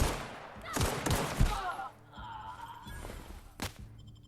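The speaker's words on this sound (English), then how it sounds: "Finally, light machine gun." Light machine gun fire from the Outer Worlds game on PS4 comes in rapid bursts of loud, clattering shots mixed with in-game impacts and effects. One sharp final shot stands out near the end.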